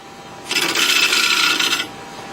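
A chisel cuts into a bowl blank spinning on a wood lathe, giving a close, bright, rasping scrape that lasts about a second and a half before falling away.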